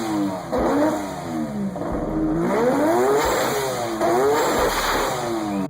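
A three-rotor Mazda RX-7 rotary engine with a single turbo and unequal length exhaust manifold revs loudly and repeatedly, its pitch swooping up and down in a rough, warbling note with no talking.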